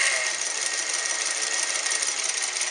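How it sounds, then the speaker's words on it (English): A vintage Japanese-built Montgomery Wards sewing machine runs in reverse stitch, its strong motor giving a loud, steady whirring buzz with a fast even mechanical chatter, close and uninterrupted. "The motor's a little loud on this guy, but it's a pretty darn strong motor."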